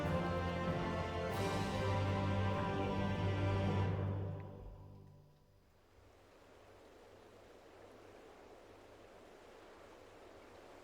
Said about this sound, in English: I actually hear water.